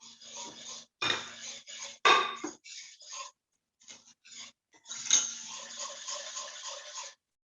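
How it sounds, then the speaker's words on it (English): Egg tart ingredients are mixed in a bowl, with close utensil scraping and clinking in short bursts separated by brief pauses, fairly quiet and with no talking. "Just keep on mixing and it will come together"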